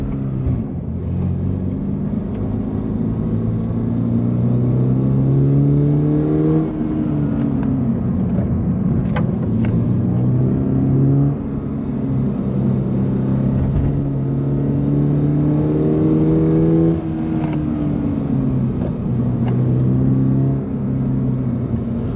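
A 2023 Subaru BRZ sports car accelerates hard through repeated gear pulls, its engine note climbing, dropping on shifts and climbing again, loud and close from inside the cabin with no talking.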